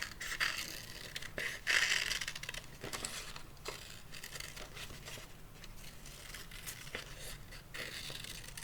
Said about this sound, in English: I'm going to go ahead and cut out my reindeer head.